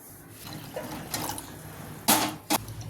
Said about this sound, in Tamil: சால்ட்டு போட்டு மீடியமான தண்ணி ஊற்றி வேக வச்சுக்கலாங்க.